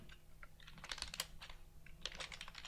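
Quiet, rapid typing on a computer keyboard while entering Java code, irregular clusters of soft key clicks with brief pauses, close and alone.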